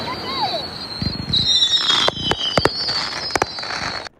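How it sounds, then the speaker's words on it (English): Fireworks burst over an oceanfront mansion, with whistling shells rising, then a run of sharp crackling pops and bangs heard from a distance. "Fireworks reportedly lit up the sky near Taylor's oceanfront mansion"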